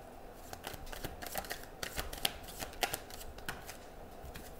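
A deck of tarot cards is shuffled softly and quietly, with repeated papery riffles and slides at close range and no talk.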